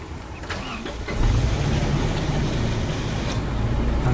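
A car engine cranks and catches as the key is turned, then settles into a steady, close idle rumble that grows louder after the first second.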